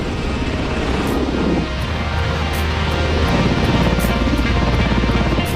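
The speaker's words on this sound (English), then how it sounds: "There's no pilot inside this helicopter." An autonomous Black Hawk helicopter in flight gives a steady, loud, rumbling engine and rotor roar throughout, with faint regular higher beats on top, no voices.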